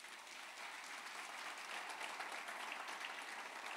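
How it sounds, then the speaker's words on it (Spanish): Steady, dense applause from a crowd, sustained without pause and fairly loud throughout, with no voices standing out. "Un fuerte aplauso para él."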